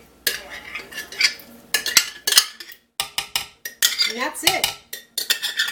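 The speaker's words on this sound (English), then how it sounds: "So let me get it stirred up here" Utensil clattering and scraping against a bowl while stirring applesauce cake batter, a series of bright, close clinks and scrapes in uneven bursts with short pauses; a voice speaks briefly.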